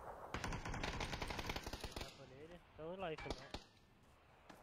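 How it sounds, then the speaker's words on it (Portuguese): Rapid automatic gunfire in a shooter video game rattles in a dense, loud burst, then gives way to scattered single shots and electronic game effects, with no talking. "Nossa, tomou muito tiro esse cara."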